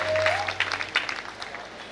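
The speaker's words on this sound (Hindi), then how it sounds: "एक बार जोरदार तालियां इन पाटिल परिवार के लिए" Applause from a devotional gathering at a Bhagwat Katha event in Ichalkaranji, honoring a family: a dense burst of clapping that swells and then thins out, moderately loud, with a sustained tone underneath.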